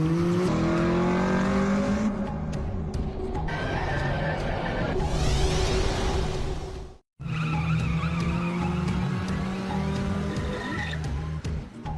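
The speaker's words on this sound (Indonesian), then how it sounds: "Dia terlihat sangat expert ngedrip di tikungan dengan sangat stabil." A Toyota AE86 drifting hard through corners in an Initial D film scene: a loud, continuous engine roar that rises and falls in pitch, with tire squeal on the slides and a sudden brief drop to silence midway.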